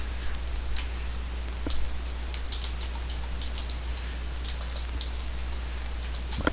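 Irregular clicks of a computer keyboard being typed on, fairly close, over a constant low electrical hum.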